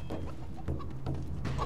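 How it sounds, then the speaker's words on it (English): Chickens cluck in the SkySaga video game, a few short clucks over a low steady game background, moderately loud and without talk. "Another chicken dead."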